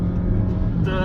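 A 2022 Honda HR-V hybrid engine runs at full throttle, a brief, loud, droning whine that holds steady and climbs slightly toward the end.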